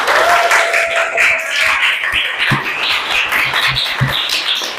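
Applause from a classroom audience of students, a dense, steady patter of clapping that stays fairly loud throughout, with a faint voice briefly under it.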